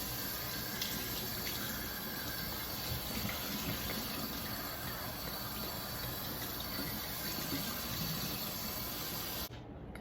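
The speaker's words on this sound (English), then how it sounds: "The next step is to rinse our hair." Running water rinsing bleached hair at home, a steady close hiss and splash of a tap flowing continuously before cutting off at the end, with no voices.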